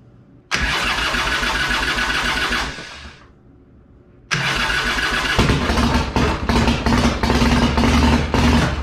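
A chopper motorcycle's engine is started with the starter switch: a loud, close burst of engine roar, a brief drop to a low lull, then it fires again into a loud, uneven running rumble with sharp revving surges.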